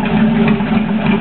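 A stock 2006 Corvette engine with 31,000 miles idles with a steady, low, even hum. It runs close and constant, with no revving.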